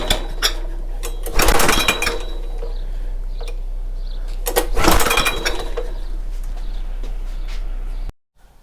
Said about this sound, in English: I think we're ready to give it a start. Fuel is on. Choke is on.